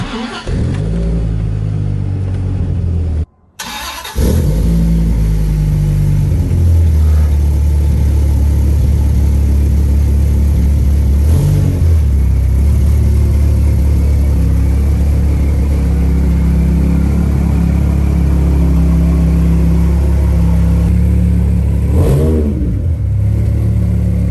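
A 2002 Dodge Viper RT 10 engine cranks and fires up with a sharp burst, then settles into a loud, deep idle punctuated by a few throaty revs, heard close.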